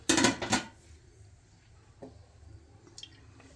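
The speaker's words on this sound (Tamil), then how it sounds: "எண்ணெய் ஊற்றி காஞ்சோடனே கொஞ்சோண்டு சீரகம் போட்டுக்கோங்க" A metal pan and utensils are handled while oil goes in for tempering cumin for tomato kurma. A burst of close clattering and dripping opens, then fades to faint scattered clinks and drips in a quiet kitchen.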